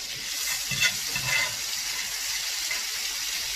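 Steak sears in a hot frying pan and is flipped over, a continuous close hiss of sizzling fat with a couple of brief louder spatters.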